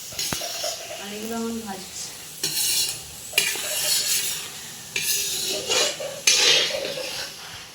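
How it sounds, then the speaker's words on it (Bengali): Beans and capsicum frying in a pan at home for fried rice, with steady sizzling and intermittent scraping and clinking of a spatula against the pan, nearby and fairly loud; a voice talks briefly. "বিনস আর ক্যাপসিকাম ফ্রাই করছে"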